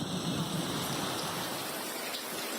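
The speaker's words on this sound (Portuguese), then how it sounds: "E vem muita chuva ainda" Heavy rain falls steadily during a flood in Rio Grande do Sul, a dense continuous hiss of downpour with a rushing-water roar underneath, no voices.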